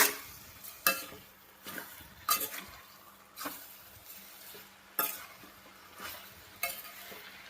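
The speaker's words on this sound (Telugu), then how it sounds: "ఒకసారి మొత్తం కలుపుదాము" Broad beans and potato curry stirred in a pan, with a soft sizzle beneath regular scraping strokes of a spoon repeating roughly every second or so, close and clear.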